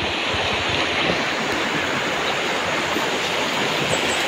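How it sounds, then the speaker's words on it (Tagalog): Broad, steady rush of water from a waterfall along a wide river swollen with floodwater, continuous and fairly loud with no voices, blending into a constant roar. "Napakagandang falls."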